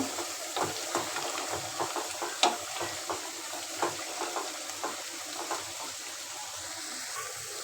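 Potatoes frying in a pan with cooked-down meat, a steady sizzle broken by repeated scraping stir strokes at an irregular pace, close and fairly quiet, with no voices.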